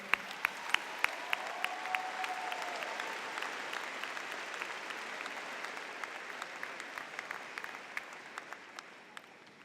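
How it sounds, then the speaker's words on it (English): Graduation ceremony audience applauding educators, a broad sustained wash of clapping from a large crowd in a hall, with sharper individual claps standing out, heard at a distance and slowly fading. "Can we please have a round of applause for our remarkable educators?"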